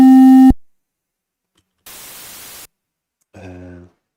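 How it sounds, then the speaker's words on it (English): A short burst of white mono noise generated during a music production session, running alone for under a second between a brief tone and a short buzzy synth note. Flat and steady, with no voices. "white mono noise"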